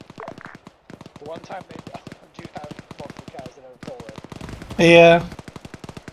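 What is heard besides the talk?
gunshots in the video game ARMA 3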